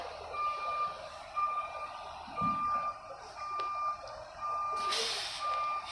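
A bus backing up sounds a steady series of electronic reversing beeps, evenly spaced and moderately loud over low traffic rumble, with a brief burst of hiss near the end.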